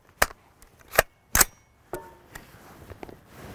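Rifle shots of M2AP armor-piercing ammunition fired from a Yankee Hill Phantom M2 at a Level III boron carbide armor plate, three sharp loud cracks spaced about a second apart, then softer clatter and ticks.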